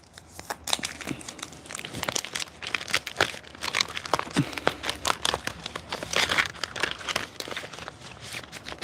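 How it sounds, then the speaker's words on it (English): A deck of playing cards is shuffled several times, giving quick papery riffles and crisp snapping bursts in an uneven, close rhythm with no one talking. "Let me shuffle the deck a few times."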